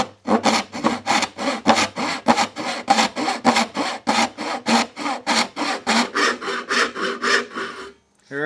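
Hand saw cutting dovetails into a wooden drawer by furniture makers, a steady run of about twenty close, loud back-and-forth rasping strokes that stops near the end.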